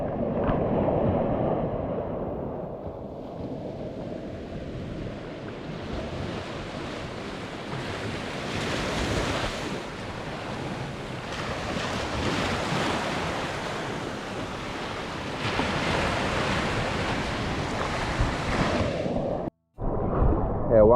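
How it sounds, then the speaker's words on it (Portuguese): Sea waves wash steadily onto a beach at Ilhabela, Brazil, a continuous loud surf roar with wind buffeting the microphone throughout and a brief dropout near the end. "E eu deixo vocês agora com o mar e com os áudios originais dos vídeos"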